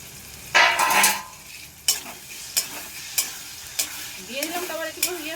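Grated tomato added to fried garlic and stirred in a pan: a loud initial sizzle, then a series of crisp spoon strokes against the pan every half second or so over a steady frying hiss, no talk.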